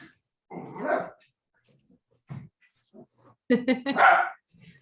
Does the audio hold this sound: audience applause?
no